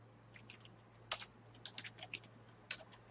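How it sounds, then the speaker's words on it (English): Someone types on a computer keyboard, scattered quick clicks in a short irregular burst over a low steady electrical hum, close and fairly quiet. "You can then type in your domain name."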